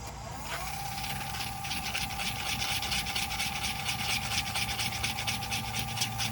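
A wood lathe spins steadily while sandpaper rubs against a turned tool handle, making a continuous close rasping whir over a low motor hum with no talking.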